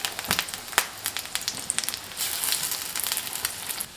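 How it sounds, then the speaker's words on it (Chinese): Egg-coated bread roll dough frying in hot oil on an electric griddle, giving a steady soft sizzle with light crackles and a few sharper pops, close and moderately loud with no talking. "锅中油热，放入生坯，把面包的切口处我们放在底边。"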